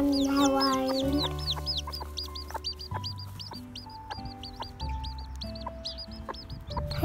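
Repeated soft clucks from a hen mixed with a chorus of high peeping Serama chicks, close by and continuous.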